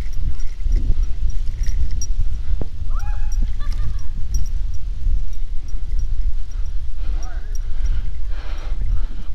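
Two horses being walked along a canal-side bike path, hooves clip-clopping at a walking pace beneath a person talking nearby.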